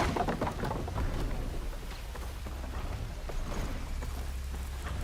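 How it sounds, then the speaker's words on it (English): Heavy rain hisses continuously in Horizon Forbidden West, with deep rolls of thunder rumbling underneath and a cluster of sharper crackling bursts at the start, all without voices. "Can't hear much over the rain."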